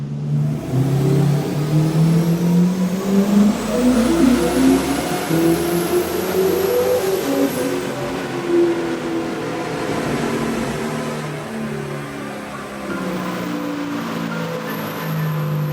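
A Jeep engine on a dyno with added ignition timing and boost, revving hard through a sustained power run, its pitch climbing steadily and loudly for most of the stretch with no talk over it.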